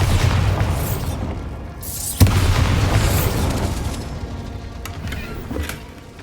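A Bombarda spell explosion in Hogwarts Legacy on Xbox Series X, one sharp, heavy boom cutting through a continuous low rumbling game background, followed by fainter crackling debris.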